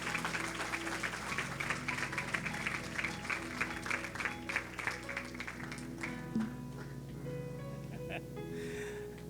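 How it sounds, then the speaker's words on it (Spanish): A congregation applauds during an evening missions church service. The clapping is steady and sustained over a continuous musical tone, holds for most of the stretch and thins out toward the end. "Denle un aplauso fuerte al Señor."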